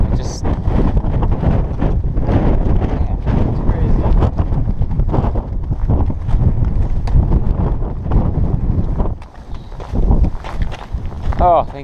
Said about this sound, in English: Wind is ridiculous.